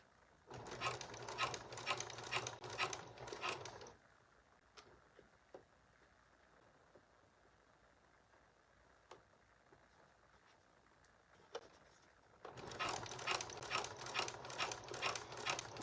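A sewing machine stitching a flat felled seam on jeans fabric, fast rattling bursts at the start and end with a quiet pause between, close and clear, no voices.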